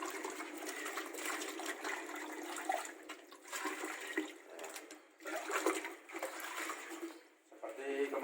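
Water being poured and stirred into small corn kernels for fermentation, a steady gushing and sloshing close by with someone talking over it.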